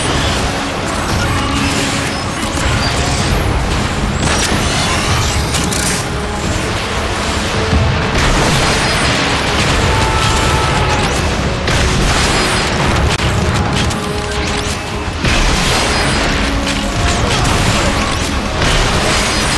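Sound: rocket explosions from the video game Transformers: Fall of Cybertron

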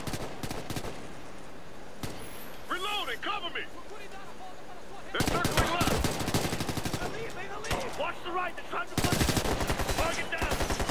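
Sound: turret machine gun firing in a video game

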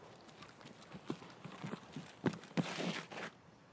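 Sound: footsteps of someone running in video game Escape from Tarkov

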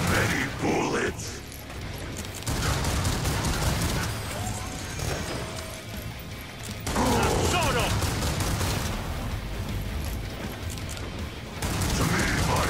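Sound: rapid gunfire in video game Killing Floor 2

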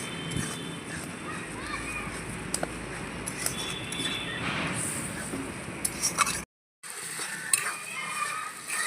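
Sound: stirring and frying masala with sugar in oil

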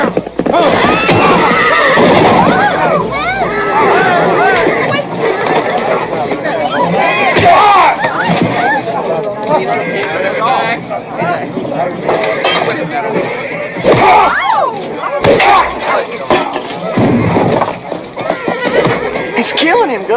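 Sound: horse neighing

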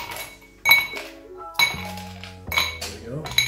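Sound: ice cubes clinking into a cocktail glass

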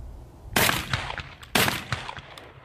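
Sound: Beretta A300 Ultima shotgun firing 3-inch shells

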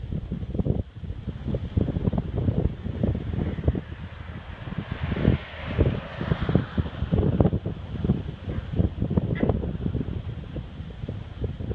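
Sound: wind blowing outdoors

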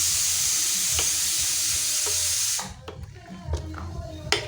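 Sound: mixing avial with salt and curd in a pot

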